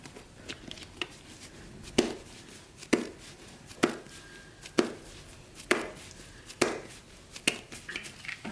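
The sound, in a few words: cutting bread dough into two equal pieces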